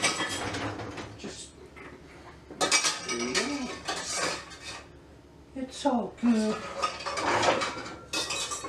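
Dishes and cutlery clatter in a kitchen sink, bursts of clinking plates and scraping utensils with pauses, close and fairly loud, while a voice speaks briefly.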